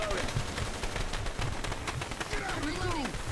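Rapid video game gunfire in a dino survival shooter, a steady stream of repeated shots filling the clip under excited team chatter.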